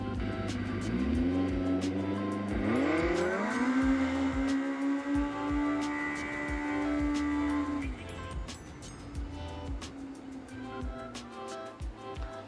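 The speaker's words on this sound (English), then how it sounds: "that MBRP exhaust is on point for how good it sounds" A modified Polaris RZR Pro R with an MBRP exhaust launches in cool 48-degree air. The engine note climbs quickly and stays loud through a long, sustained pull, then drops off and fades to a lower rumble.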